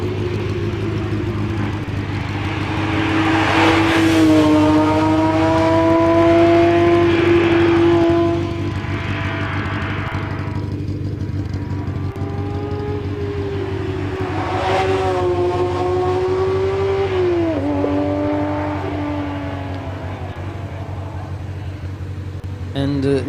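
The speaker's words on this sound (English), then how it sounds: "Silvalopes with the Porsche 911 GT3 from the 992 generation." A Porsche 911 GT3 of the 992 generation, with a normally aspirated flat-six, runs through its gears. The engine revs rise and fall in steady sweeps over a deep, constant rumble, loud and close. Talk continues over it.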